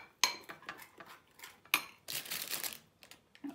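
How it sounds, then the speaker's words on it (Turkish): Metal spoon clinking and scraping against a pot while sauce is stirred for a village-style rabbit dish, with a few sharp taps followed by a longer wet scraping, close and fairly quiet. "Şekilde kaşık alalım. Sosumuzu karıştıralım."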